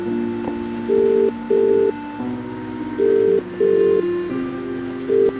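Cartoon phone call to a cell phone: a tone hums under rain-like noise, then a ringback pattern of repeated paired electronic pulses, loud and close.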